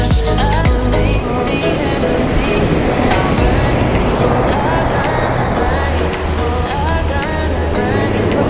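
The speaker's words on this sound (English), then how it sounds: "The waves just come so unexpectedly." Pacific Ocean waves breaking on the shore along the Puerto Vallarta Malecon in Mexico make a loud, continuous wash of surf. Faint voices and background activity sit beneath the roar.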